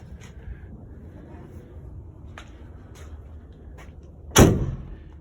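A sliding barn door is pushed shut, a single firm thud with a short rumbling ring, preceded by faint rolling and light knocks against a quiet background hum.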